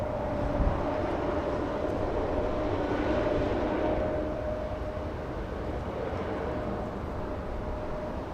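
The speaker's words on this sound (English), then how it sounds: "We should see the early departure, early rotation on departure due to all the headwind." A jet airliner departs at Los Angeles International Airport into a strong headwind, its engines giving a steady broadband roar with a faint whine that holds over several seconds and eases slightly toward the end.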